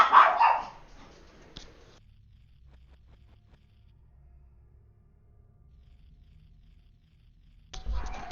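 A real household dog lets out a loud bark at the start, then goes quiet for several seconds before another bark bursts in at the end against a low, quiet background.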